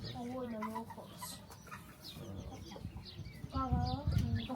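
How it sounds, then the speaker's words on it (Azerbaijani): An Azerbaijani rooster crows loudly and close, its harsh, ringing call rising and falling over about four seconds, with hens clucking and faint voices in the background. "Azərbaycanlı xoruz."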